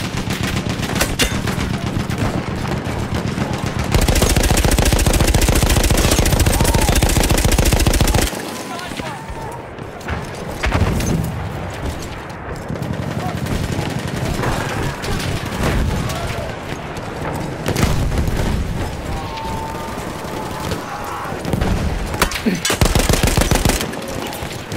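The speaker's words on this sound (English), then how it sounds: "Machine gun, one of theirs." Enemy machine gun fire in Battlefield 1, dense and loud sustained bursts with heavy battlefield noise, nearly continuous throughout with brief lulls.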